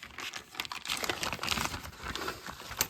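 A paper envelope is handled up close and opened with a steady run of crinkling, rustling and small tearing sounds, fairly quiet and alone, with no speech.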